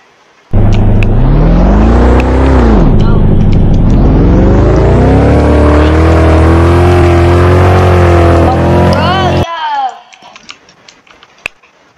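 Loud, close car engine revving in the racing game Downforce, a harsh roar that climbs, dips and climbs again in pitch for about nine seconds before cutting off abruptly, leaving faint ticking and clatter.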